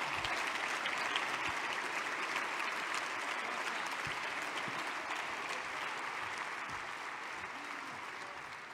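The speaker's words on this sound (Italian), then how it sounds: "Applauso alla mia padrona." Audience members at a political party conference applaud in a steady, fairly distant wash of clapping that holds for several seconds and slowly fades a little toward the end.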